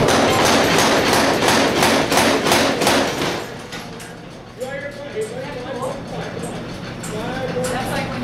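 Rapid, heavy pounding of a mechanical hammer in a blacksmith shop at a log show hammers away loudly for a few seconds, then stops, leaving rumbling background noise and some faint voices.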